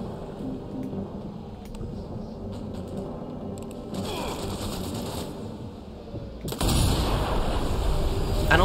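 MG42 machine gun fire in Sniper Elite V2 mixed with heavy booming battlefield noise, sharp bursts and blasts that grow louder toward the end.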